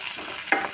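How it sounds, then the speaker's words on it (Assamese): Onions sizzle in a hot kadai, a short burst of crackling hiss with a quick stir scraping through it partway. "কেৰাহীটো গৰম কৰি তাতে পিঁয়াজ অলপ দি দিছোঁ"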